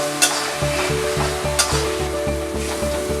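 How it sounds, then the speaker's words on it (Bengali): A spice paste of turmeric and Kashmiri chilli powder sautés in hot oil for Bengali chicken kosha, with a steady sizzle and repeated rhythmic stirring scrapes, close and continuous, no voices. "দেখুন আমার মশলাটা ভালো মতন কষা হয়ে গেছে।"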